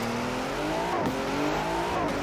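A Ford car engine in the Forza racing video game revs in two rising pulls with tire squeal, loud and close, with no talking.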